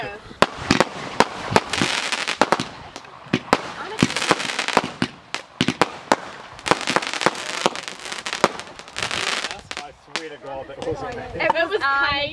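Backyard fireworks crack and bang in rapid, irregular bursts, loud and close, with crackling between blasts and people talking and shouting throughout.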